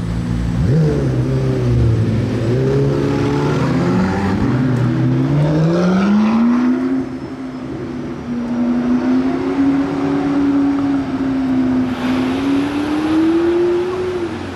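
A McLaren P1 supercar engine rumbles loudly, its tone climbing as it accelerates, then holds a steady drone while driving by nearby on the streets of Monaco during the Grand Prix.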